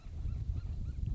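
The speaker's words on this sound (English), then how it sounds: "it's a bird chirping out there" A bird calls outside in the Sonora Desert near a campfire, a low honking, goose-like sound repeating through the moment at moderate distance with no talk over it.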